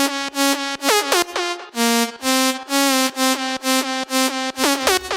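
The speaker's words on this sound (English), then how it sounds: "It is a single voice saw with white noise on it." Future house synth lead built from a single saw oscillator with white noise, playing a bright, buzzy staccato melody of short repeated notes with quick pitch drops, loud and alone.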